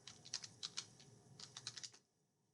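Quick, light keystrokes on a computer keyboard in a quiet room, about a dozen soft clicks in irregular bursts, then stopping abruptly.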